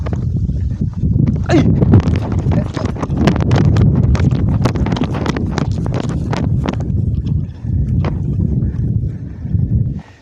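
Cold wind gusts roar and buffet the microphone outdoors while a 170 cm Chula kite is flown, a loud, continuous low rumble with irregular thumps and no talking.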